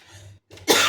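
A single person's lingering cough, a short throaty hack followed by a sharper, louder burst, close to the listener with no other sounds.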